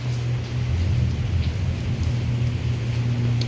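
Steady rain pours outdoors during a storm while a deep, low rumble of thunder rolls underneath, a continuous dense wash with no voices.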